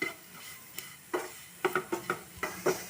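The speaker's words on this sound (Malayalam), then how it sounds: "അപ്പോൾ പൊടികൾ മൂക്കുന്നത് വരെ നമുക്കിത് ഇളക്കി കൊടുക്കാം" Spice powders frying in a pan for chicken gizzard roast while a spoon stirs them: a soft sizzle beneath a run of sharp, evenly spaced scraping taps, close by, no voices.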